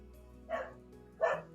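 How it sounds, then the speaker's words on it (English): A pet dog indoors gives two separate barks about half a second apart, faint and somewhat distant, with a low steady hum underneath. "Sorry if you can hear my dog barking"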